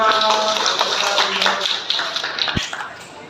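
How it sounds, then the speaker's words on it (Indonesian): Students in a classroom clap for a presenting group, a short burst of scattered hand claps close by that thins out over a few seconds, with a single sharp knock partway through. "Oke, tepuk tangan untuk kelompok 1."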